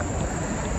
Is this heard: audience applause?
no